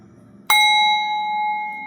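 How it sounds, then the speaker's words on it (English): A single bell strikes once sharply and loudly, then rings on with a clear sustained tone that slowly fades. "I didn't tell you guys about the bell before."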